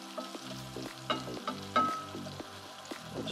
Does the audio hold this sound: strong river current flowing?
no